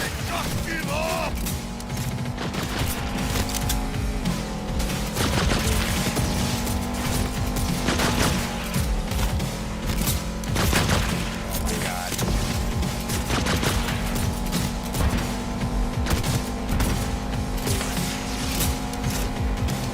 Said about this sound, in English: Let me shoot my pistol at it.